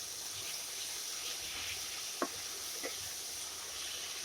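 A spoon stirs turmeric into a tomato masala in a pan over a soft, steady sizzle, with a couple of sharp scraping knocks against the metal, close by and without speech.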